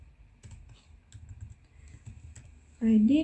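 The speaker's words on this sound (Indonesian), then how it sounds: "Kita ketik sini predict" Typing on a computer keyboard while entering a command in Stata, soft quick key taps in an uneven rhythm, close and quiet, with a person briefly speaking at the end.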